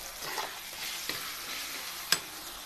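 Masala frying in hot oil in a home kitchen pan, a faint steady sizzle with a few soft scrapes and taps of a spoon stirring.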